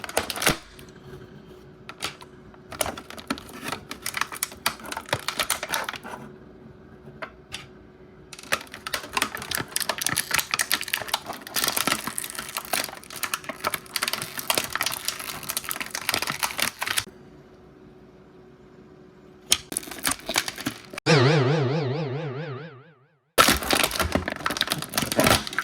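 A Marvel Legends No Way Home deluxe Green Goblin action figure is pried from its plastic tray packaging: close, sporadic plastic cracks, clicks and crinkles in clusters separated by quiet pauses.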